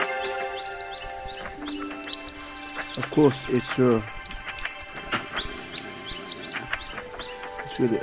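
Birds chirping in the video game Bye Sweet Carole, bright repeated tweets and short trilled calls scattered steadily throughout, fairly loud, with a person talking over them.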